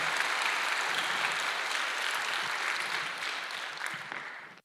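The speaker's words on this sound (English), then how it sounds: "Can we give God a great clap offering also?" A church congregation claps together during a worship service, a dense and steady wash of applause that holds for several seconds before fading out abruptly at the end.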